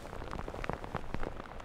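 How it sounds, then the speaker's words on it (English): Rain falls on the mountain of Wetherlam, pattering in quick, irregular drops against nearby surfaces at a moderate level, with no voices. "I thought we'd missed the rain."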